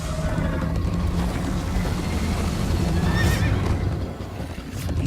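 A horse whinnies with rising harmonic cries over steady hoofbeats and game background noise, in Minecraft: Story Mode.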